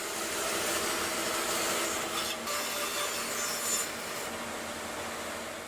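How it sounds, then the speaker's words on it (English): A bandsaw trims a wooden tenon flush, a continuous rasping whir that holds nearly even for several seconds with no voices. "So back to the bandsaw. Now I can use this base as a guide to trim it flush."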